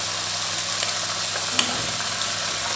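Butter sizzles steadily in a frying pan on the hob during a full English breakfast, a continuous close hiss with a brief sharp clink near the middle and no talking.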